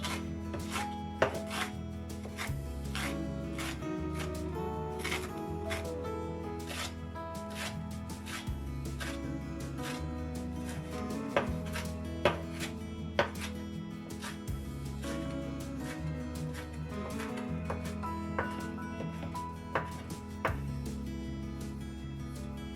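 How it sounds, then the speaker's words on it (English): Fresh green parsley being finely chopped with a knife on a board, rapid steady taps repeating throughout over soft background music, close and crisp. "You have to use a lot of parsley, fresh green parsley,"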